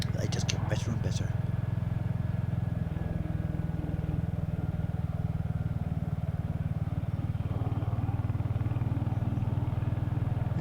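A Triumph Spitfire's engine runs steadily with a continuous low drone throughout, a few brief clatters near the start, with voices talking over it.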